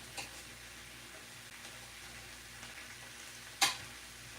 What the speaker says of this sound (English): That's the sound we like to hear, that sizzling of the chicken.